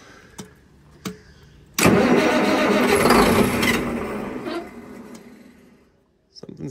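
Diesel engine of an auction-bought unit cranks briefly with a couple of short bursts, then catches and roars loudly for several seconds before dying away, with a brief restart attempt at the end.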